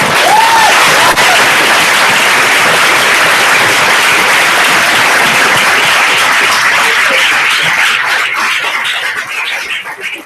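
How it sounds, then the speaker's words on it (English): Loud, dense applause from the audience at a university public debate, a sustained roar of clapping filling the room before tapering slightly at the end, with no talk over it. "So applaud yourselves and applaud them"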